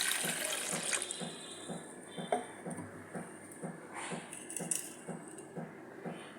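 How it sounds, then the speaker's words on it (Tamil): Water runs steadily from a tap or spout into a vessel of jaggery, a continuous splashing stream with faint rhythmic tapping underneath, close by and with no voices. "நல்லா ஒரு மூணு டம்ளர் மூன்றரை டம்ளர் அளவு நம்ம வந்து தண்ணி சேர்த்துக்கலாம்"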